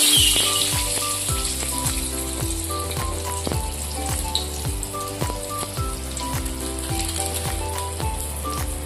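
Whole black cumin (nigella) seeds frying in hot oil with halved dried red chillies, a steady close sizzle running under rhythmic mechanical ticking and a repeating tonal pattern throughout.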